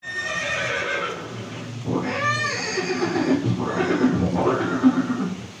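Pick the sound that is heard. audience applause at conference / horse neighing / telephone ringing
horse neighing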